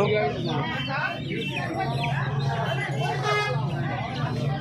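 Chickens clucking in a market cage, golden chicks among them, sound from close by amid busy crowd chatter at a hen market in Uluberia, with a person talking over them.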